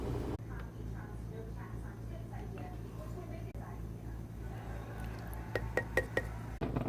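A sourdough starter of flour and water is stirred in a glass jar, with a steady low rumble throughout and a few light clinks of the utensil against the glass near the end.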